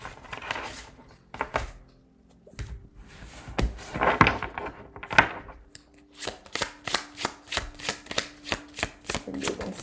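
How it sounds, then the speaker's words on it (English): Tarot cards are shuffled by hand, with scattered soft taps and shuffles early on that give way to a quick, regular run of crisp riffling bursts at close range. "I'm going to put these cards back and shuffle."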